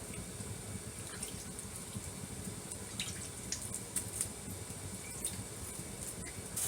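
Cold water sprinkled over couscous in a kitchen, a steady soft wet patter and drizzle, with faint ticks and clinks of a hand or utensil stirring, close and fairly quiet without talk.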